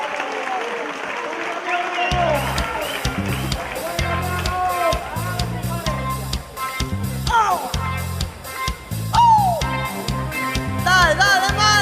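An audience claps for a singer at a televised music and comedy show, applause rising and holding fairly loud while a presenter's voice and music carry over it.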